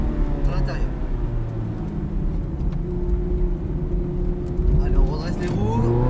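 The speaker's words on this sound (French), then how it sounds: "on redresse les roues et on accélère" Ferrari F430 Scuderia engine heard from inside the car as it accelerates out of a corner on track, a loud, steady rising engine drone with harmonics climbing in pitch.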